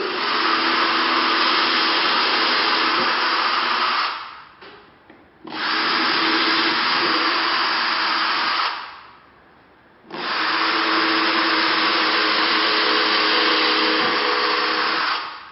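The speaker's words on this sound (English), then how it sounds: "so we'll just quickly drill those through." A power drill whirs loudly in three long, steady bursts, drilling pilot holes into a wall, each running several seconds with short quiet gaps between them.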